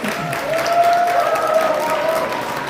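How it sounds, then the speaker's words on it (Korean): Wedding guests clap together in sustained applause for the groom before he sings, a steady dense patter of many hands filling the room, with a sustained tone running underneath. "신랑이 힘을 내시도록 큰 박수 부탁드리겠습니다."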